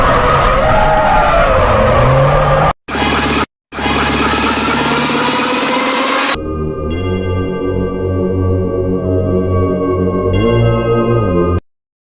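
A car skids loudly in an animated drama, a long harsh tire screech with engine noise cut by brief gaps, then a steady sustained engine tone fades out.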